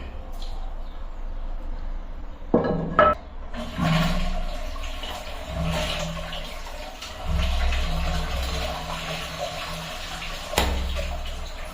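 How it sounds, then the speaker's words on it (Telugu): Water rushes and gurgles down a western washbasin's newly fitted siphon drain in a steady flow, with a few knocks and clunks along the way. "సో గైస్ వాటర్ అయితే వెళ్తున్నాయి, సౌండ్ గమనించారు కదా."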